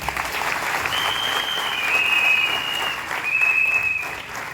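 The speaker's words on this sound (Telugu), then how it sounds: "ఒకసారి క్లాప్ చేద్దాం." Audience at a women leaders' speech event at Kotappakonda bursts into sustained applause, a dense wash of many hands clapping at close range, swelling midway and holding to the end.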